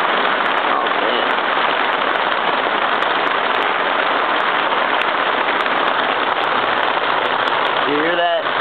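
Heavy rain pours outside a tiki hut in Atlanta, a dense, steady hiss of drops hitting surfaces all around that continues unbroken and loud throughout.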